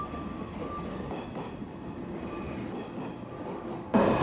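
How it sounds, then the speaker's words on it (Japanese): A train on the San'yō Main Line rumbles steadily along with a low, continuous rolling noise, then a louder clatter near the end as it pulls into Shimonoseki station. "九州方面から本州下関への列車が到着。"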